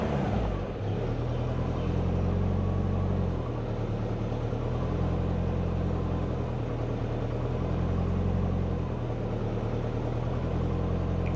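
A tuned car engine idles steadily up close, with repeated throttle blips swelling and falling back in a regular rhythm, alone with no talk.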